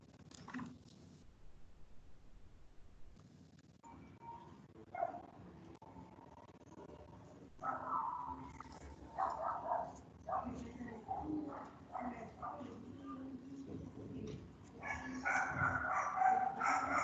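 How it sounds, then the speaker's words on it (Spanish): Dog barking in the background during an online thermodynamics class, several faint-to-moderate barks scattered irregularly among muffled voices and room noise, growing louder toward the end. "Callen ese perro."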